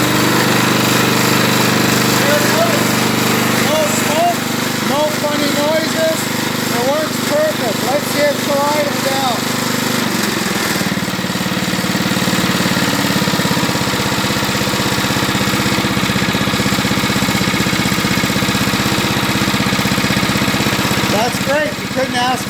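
An Eaton Viking rototiller's small engine runs steadily after a pull start, a loud, close, continuous mechanical rattle that shifts in tone about halfway through and keeps going without pause.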